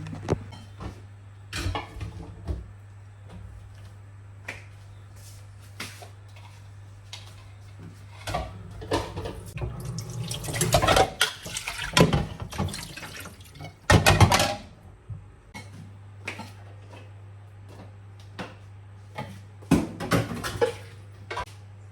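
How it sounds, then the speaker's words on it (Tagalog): Dishes clink and clatter at a kitchen sink, with bursts of running water and scattered knocks, over a steady low hum. "Next, maghugas na tayo ng mga pinggan."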